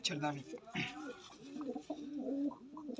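Pigeons kept in a coop coo in soft repeated low calls, fairly close, with people talking quietly alongside them.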